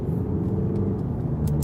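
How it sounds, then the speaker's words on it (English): Road traffic passes in the middle of the night, a steady low engine rumble heard from inside a car, with a couple of faint high tire or passing-vehicle hisses near the end. "Ooh, look at this traffic."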